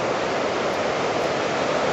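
Ocean waves near a seaside campsite on a coastal hike make a steady, dense, close roar of surf that never lets up across the whole short stretch.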